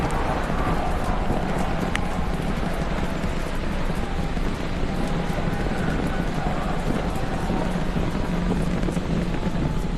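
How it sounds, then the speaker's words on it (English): Starship Super Heavy booster climbing on 33 Raptor engines, producing a dense, continuous, crackling rumble that stays loud and unbroken throughout, with faint voices mixed underneath. "30 seconds into flight, we are feeling the rumble"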